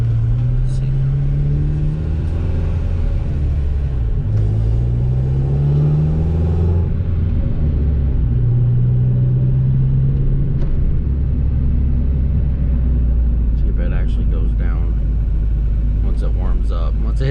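A Honda Integra GSR with a salvage-built, all-motor B18C1 engine that has idle problems runs steadily during a drive, its low rumble rising and falling through gear changes while people talk over it.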